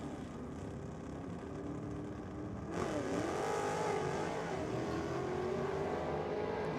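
A Ford or Holden drag racing car at a Race 4 Real theme night roars down the strip, heard from a distance as a continuous engine drone. The sound swells and brightens partway through the run, with no voices over it.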